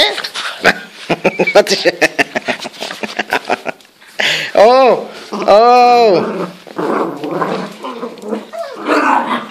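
A dog growls and gives whining, howling barks close by, mixed in with several people talking.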